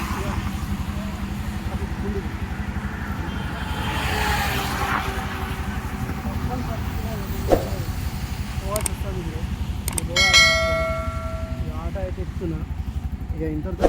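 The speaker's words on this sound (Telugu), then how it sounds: "కార్లు అన్నీ వస్తూ ఉంటాయి" Cars pass by on a busy road, heard from an auto rickshaw, making a constant engine rumble and whoosh with a horn-like tone and a brief tire squeal. People talk over the traffic noise.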